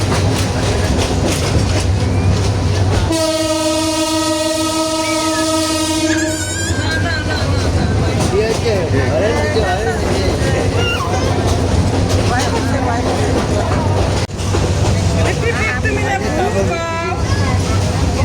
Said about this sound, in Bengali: এই যে লালমনিরহাট রেলওয়ে স্টেশন আমরা ভোরে ভোরের ট্রেনে যাইতেছি